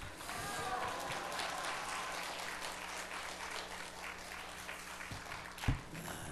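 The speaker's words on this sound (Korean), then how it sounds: "목사님께 격려의 박수 올려드리겠습니다" A church congregation at an autumn revival service applauds the pastor, with dense, steady clapping throughout and a single sharp thump near the end.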